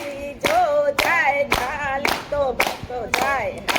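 Gujarati kirtan devotees clap in a steady beat, about six crisp, close claps ringing out over continuous devotional singing.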